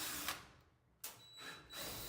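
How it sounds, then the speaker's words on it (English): A power driver with a security Torx bit backs out screws from the rear panel of a GE coin-operated dryer. It gives a couple of short, faint whirring bursts with brief pauses between them. "Then I'm going to start removing these screws along the back."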